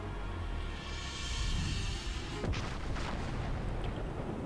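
Heavy battleship main guns firing in the World of Warships naval game, tier 10 battleships in play; a dense rumbling salvo of deep booms with a sharp blast around the midpoint followed by rolling reverberation.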